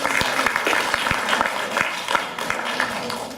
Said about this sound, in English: A round of applause to Professor Bauer.